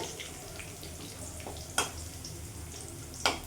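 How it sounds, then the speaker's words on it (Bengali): Whole garam masala, cumin seeds, dried red chillies and a broken bay leaf frying in hot oil for tempering, a soft steady sizzle broken by two sharp crackling pops. "গোটা গরম মশলা গোটা জিরে শুকনো লঙ্কা দিয়ে দিলাম ফোড়নে"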